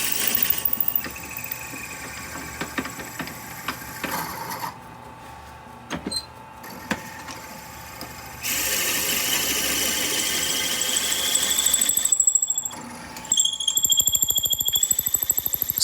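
Loud whining drill with a 12.5mm high-speed steel bit cutting into a sapele mahogany pen tube nearby, with shifting motor pitch, brief pauses, and grinding bursts as the bit bites.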